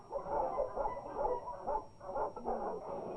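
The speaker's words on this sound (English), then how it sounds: "Some dogs are taught only to make threatening noises." A trained dog growls and snarls in short threatening bursts, loud and close, with whimpering yips between the rumbling sounds.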